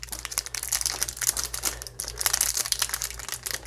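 Cheap, crinkly plastic wrapping is pulled off a Pineider Matrix gold-nibbed flex fountain pen, making dense close-up crackling and rustling in quick irregular bursts.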